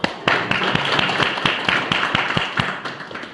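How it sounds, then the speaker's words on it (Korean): Sparse, distinct claps at a Korean team meeting, individual sharp hand strikes spaced irregularly over a few seconds rather than a full crowd ovation, close and fairly loud against a quiet background. "안기훈님 박수"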